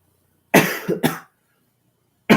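Two quick close coughs in a row, loud and sharp, followed by a pause and the start of another cough, indoors with no talking.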